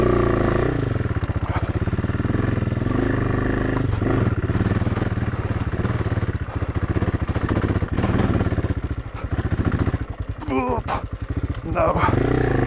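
An AJP PR7 motorcycle labours up a steep mountain slope in the Italian Alps in first gear, its engine droning loud and close without a break while faint rustling and clatter sit underneath.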